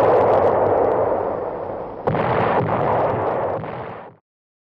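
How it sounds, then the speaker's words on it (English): Big WWII artillery guns fire during the push toward heavily fortified Metz near the Siegfried Line, a loud rumbling barrage with one sharp fresh blast midway before the sound cuts off abruptly. "Our big guns open up."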